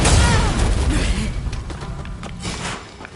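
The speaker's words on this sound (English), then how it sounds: "Fire the cannon!" A cannon fires with a loud, deep boom at the start, and its rumble and crackling debris fade gradually over about three seconds.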